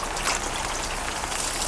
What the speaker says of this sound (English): the water's still leaking out.